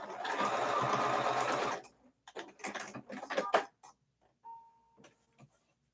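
A sewing machine stitching a fabric stem along a marked line for a strawberry foundation paper-pieced block, running steadily for about two seconds, then stopping, followed by a few short handling clicks and taps up close.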